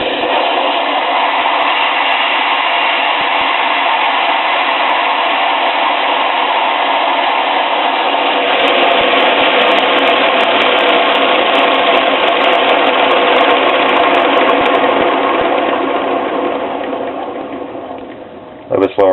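A boundary layer (Tesla-style disc) turbine runs on compressed air with a loud, steady high-pitched whine and hiss that holds for most of the run, then slows and fades near the end.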